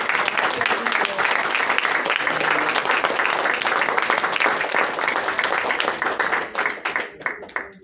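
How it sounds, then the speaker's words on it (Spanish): Church congregation applauding together during a service, a steady wash of many hands clapping that fills the space, loud and close, then thinning into scattered claps near the end. "Le da un aplauso al Señor. A ti, palmas de gratitud."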